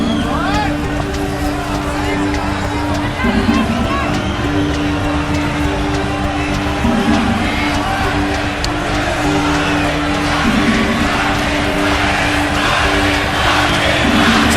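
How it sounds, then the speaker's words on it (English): A boxing arena crowd at the Pacquiao versus Marquez fight chants Marquez's name in a steady repeated rhythm, a dense roar of many voices with a ringside commentator talking over it. "now they're chanting Marquez, Marquez, Marquez"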